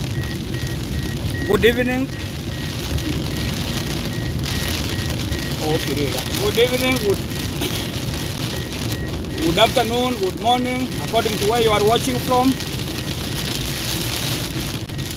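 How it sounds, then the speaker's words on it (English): Heavy rain drums steadily on a car while driving home from Masai Mara, a constant hiss running throughout beneath someone talking. "And it's raining, a lot of rain."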